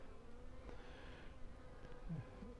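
A soft, steady hum of honeybees buzzing close by while a package of bees is installed in a 7-frame Apimaye beehive, faint and continuous with no voices.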